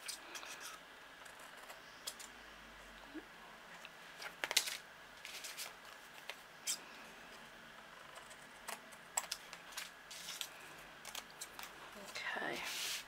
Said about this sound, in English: Just snip off the excess.